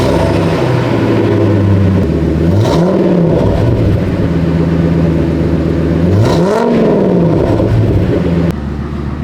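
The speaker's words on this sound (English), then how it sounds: "let me show you guys what this 4-inch exhaust for MBRP sounds like" A Ford F250/Excursion V10 with an MBRP 4-inch catback exhaust idles with a deep, loud rumble, then revs up twice in rising and falling sweeps before settling back to idle.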